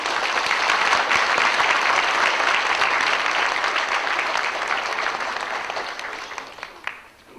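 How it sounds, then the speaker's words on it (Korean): Sustained audience applause at a university scholarship award ceremony, dense and steady clapping from a large crowd that gradually thins and fades out toward the end. "박수로 한번 부탁드립니다."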